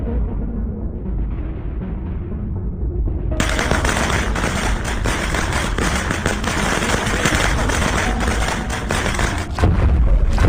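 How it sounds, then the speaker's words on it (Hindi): Firecrackers burst during Diwali in a long, rapid, machine-gun-like string of sharp cracks, loud and close, after a few seconds of low rumbling background. "रॉड के बाद बुल्ली पटाखे फोड़ता है।"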